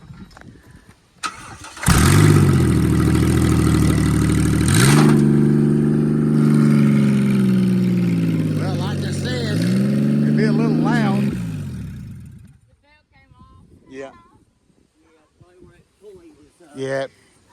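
A 2007 Dodge Dakota engine cranks and catches, then revs loudly and steadily for about ten seconds before shutting off, with people talking briefly before and after.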